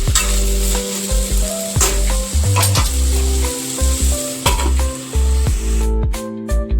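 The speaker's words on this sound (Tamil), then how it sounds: "காய்கறிலாம் இதுலேயே வந்து வேகணும் நல்லா நல்லா கிளறி கொடுத்துட்டு மூடி போட்டு மூடி வச்சிடலாம்" Vegetables and pasta sizzle loudly in a home-cooked pan while being stirred, with steady frying hiss and repeated scraping clatters of the spoon against the pan throughout, no voices.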